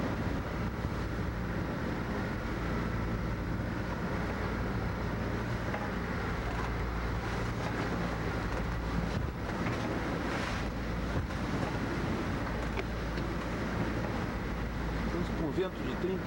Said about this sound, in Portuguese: Vento de 30 nós